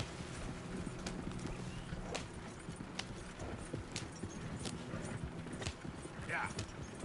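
Horse hooves clip-clop at a steady walking pace in Red Dead Redemption 2, quiet and mixed with game ambience and speech.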